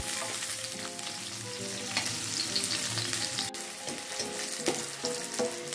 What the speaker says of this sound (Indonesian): Kemudian kita panaskan sedikit minyak dan kita goreng sebentar.